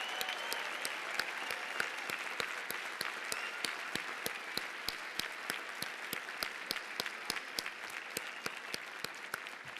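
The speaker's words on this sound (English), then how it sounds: "One last round of applause for all of those people receiving degrees today." Audience applause for degree recipients at a 2017 graduate commencement ceremony, steady and dense from a large seated crowd, with a few sharper claps standing out at a distance.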